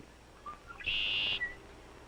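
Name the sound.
red-winged blackbirds singing in the marsh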